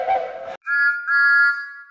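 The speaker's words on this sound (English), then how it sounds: "That sounds entirely different to his iconic whistle we all know." A steam engine's whistle from the pilot episode of Thomas and Friends, sounded by the big express engine Gordon: a short blast, a brief gap, then a longer, clear multi-tone whistle held alone and fairly loud.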